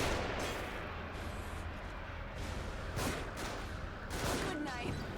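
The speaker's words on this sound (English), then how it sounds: "They're shooting from above." Enemy gunfire in the survival horror game The Evil Within, a steady crackle of shots with a few sharper bursts standing out over several seconds, moderately loud and with a voice talking over it.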